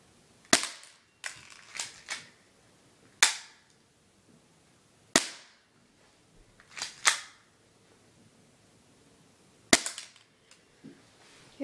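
A BB pistol fires about a dozen sharp, snappy shots at irregular intervals during an accuracy test, each a crisp crack with a brief ring, separated by quiet gaps.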